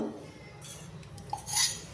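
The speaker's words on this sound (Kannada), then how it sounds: "ನೋಡಿ ಈಗ ಸ್ಟವ್ ಮೇಲೆ ಬಾಣಲೆ ಇಟ್ಟಿದ್ದೀನಿ" A frying pan is set on a kitchen stove while sambar is being made, giving a faint, brief metallic clink against a quiet background.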